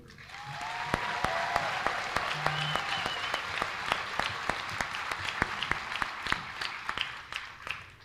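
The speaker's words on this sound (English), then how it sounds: "please join me in a round of applause for the band" An audience at an Army basic combat training graduation ceremony at Fort Jackson applauds the Army band, with broad steady clapping punctuated by sharp individual claps and a faint tone in the background.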